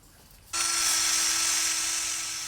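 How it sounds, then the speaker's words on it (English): A brass wire wheel on a power drill strips the last paint and scorch marks from a Honda CRM250AR motorcycle frame, starting abruptly after a quiet moment and whirring loud and steady with a high hiss and a constant tone. "my assistant using a brass wire wheel drill attachment to remove the last remaining"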